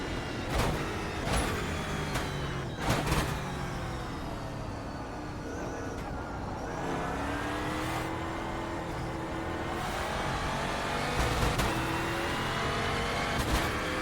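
A NASCAR stock car engine in a racing video game drones close and loud under load, with its pitch rising and falling through the gears and a few sharp knocks early on, heard without talk.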